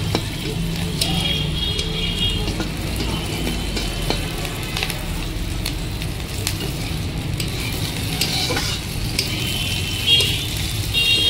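Ingredients for butter chicken fry in a pan with a steady, close hiss of sizzling oil and a few light clicks of stirring, continuous throughout and without talk.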